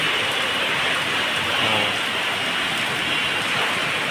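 Steady rain pours down in a constant dense hiss, loud and close, with no voices.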